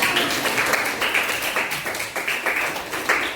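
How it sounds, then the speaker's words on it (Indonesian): Classroom group clapping after students finish their presentation about the Trawulan temple area, a loose patter of many hands, moderately loud and steady without a voice over it. "Iya, tepuk tangan."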